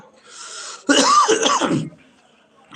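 One harsh, throaty cough lasts just under a second. It is heard close and loud against a quiet background at a book fair.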